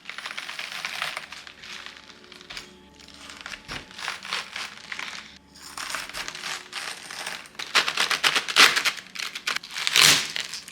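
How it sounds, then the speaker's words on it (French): A knife pushes through a hard winter cabbage to cut it in half, giving repeated crunching, crackling bursts that build in loudness toward the end, close and alone with no talk. "Je sais juste que je veux un quart de mon chou, donc je vais essayer de le couper en deux."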